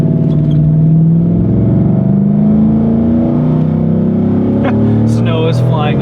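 A 2004 Chevy Silverado pickup with an upgraded cam accelerates hard from a stop on a snowy road, its engine drone climbing steadily in pitch, loud and close throughout from inside the cab.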